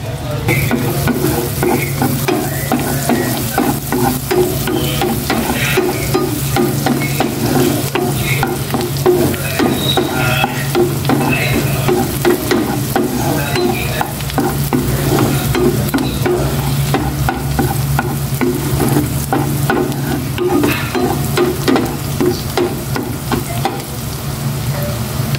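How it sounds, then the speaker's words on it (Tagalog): Garlic sautéing in a pan for a birthday meal sizzles loudly and steadily from close by, with constant rapid scraping and clatter of stirring throughout and no talking. "Gisa ko na itong bawang."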